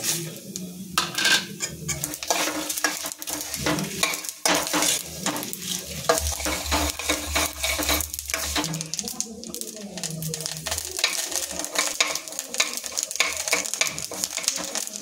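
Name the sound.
tempering with cumin sizzling and being stirred in pan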